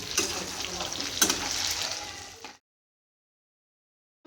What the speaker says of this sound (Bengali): এখানে এখন আমাদের পকোড়া ভাজা হচ্ছে।